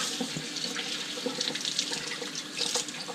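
Tap water runs steadily while sea trout fillets are rinsed of scales and slime in a sink, a close, continuous splashing hiss with no voices.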